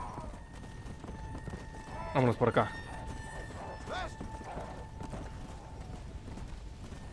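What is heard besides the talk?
horse hooves galloping in Red Dead Redemption: Undead Nightmare video game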